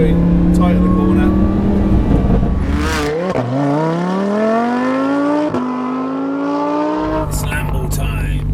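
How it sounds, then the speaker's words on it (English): Supercharged Lamborghini Huracan driving on winding roads, its engine note climbing steadily as it revs up, with a sharp gear change midway, close and loud throughout. "We're on windy roads, but it drives like a normal car."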